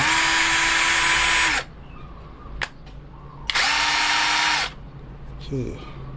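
A BONCHI 28V cordless drill running in first gear gives two loud sustained whirring bursts of about a second and a half each, separated by quiet clicks and a short trailing whine, with no talking.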